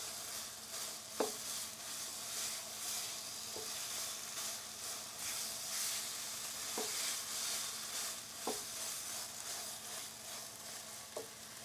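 Ingredients saute in a pan for a fish curry with mango and coconut, a steady low sizzle broken by a few sharp utensil clicks, with no talking.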